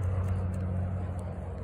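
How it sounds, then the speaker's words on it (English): Steady low rumble of road traffic passing outdoors nearby, a continuous broadband wash with no distinct vehicles standing out and no speech. "sorry for the road noise"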